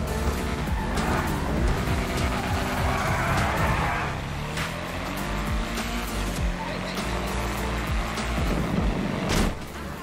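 A tuned Toyota Supra in GTA Online roars loudly with rising and falling engine revs, tire squeals and skids, and a brief talking voice over the driving.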